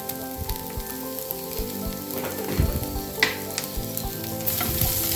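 Coriander, curry leaves and asafoetida sizzle in hot oil in a pan for Tamil potato kolukattai. A strong, close crackle runs throughout, with a few louder pops and spatters midway.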